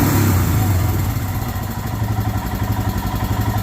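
A hot Royal Enfield Himalayan motorcycle engine sits idling close by, a loud even thumping putter with a steady pulsing rhythm. It is a little heavier at the very start, then settles.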